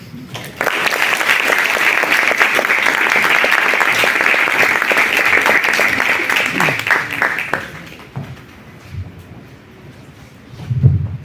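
An audience at an opening event for a talk on women of ancient Rome claps in a loud, dense burst lasting about eight seconds, then fades into room noise with a few faint sounds.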